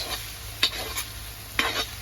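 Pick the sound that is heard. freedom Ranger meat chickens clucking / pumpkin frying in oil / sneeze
pumpkin frying in oil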